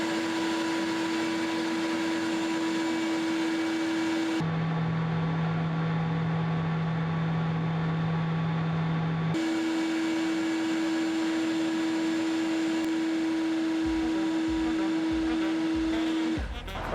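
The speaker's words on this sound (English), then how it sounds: "So let's turn this vacuum on." A vacuum cleaner sucking in dust through a Sy-Klone snorkel precleaner hums with a steady mechanical whine, dropping to a lower pitch midway, then returning, with faint rattling near the end; no voices.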